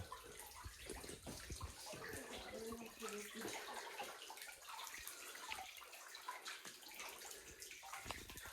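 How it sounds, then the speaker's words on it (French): Water running and flowing in a cellar, a continuous close rushing with splashing and gurgling, while people talk over it. "De l'eau qui coule partout."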